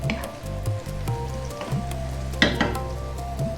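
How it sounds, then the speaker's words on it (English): Fresh whole chilies hitting a hot pan, heard as a sizzle mixed with a spoon scraping and stirring, a couple of sharp clinks near the end, and a low hum underneath. "Next up, let's get those fresh chilies in."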